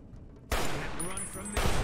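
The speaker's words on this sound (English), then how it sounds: "Don't waste your ammo, Alex." Gunfire in the post-apocalyptic shooter game Fallout: New Vegas bursts in loud and sudden after a quiet half second, sustained crackling shots over roughly a second and a half, ending in a final heavy blast.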